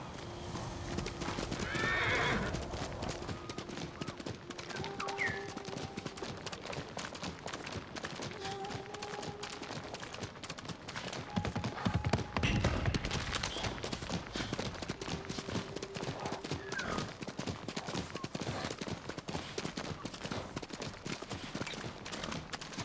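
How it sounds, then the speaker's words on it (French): A horse in Ghost of Tsushima gallops with rapid rhythmic clip-clop hoofbeats throughout, broken by several sharp neighs and whinnies, moderately quiet amid game ambience. "Tu es un bon cheval, Kage."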